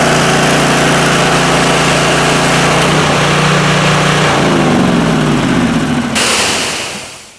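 A pressure washer engine runs loud and close during trailer winterization, a steady mechanical drone with a shift in pitch midway before it cuts off and fades at the end.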